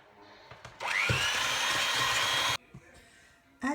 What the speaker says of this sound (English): 2 egg whites. Whisk until frothy.